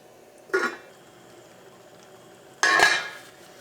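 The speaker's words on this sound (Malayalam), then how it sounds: "നമുക്കത് മൂടി വയ്ക്കാം" A lid set on a pot of Kerala-style anchovy curry (netholi peera pattichathu) cooking on a medium flame makes two short metallic clatters, a small knock followed by a louder clank, close by with no talk.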